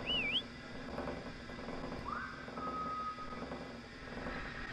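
Short whistles in a ghost ship video game, a quick wavering tone followed by a rising note that levels into a held pitch, heard over a low droning background with no talking.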